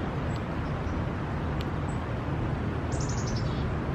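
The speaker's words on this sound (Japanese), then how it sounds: "この天敵カラス" Near Vancouver, a crow gives a quick series of harsh caws toward the end, moderately distant over a constant background of traffic noise.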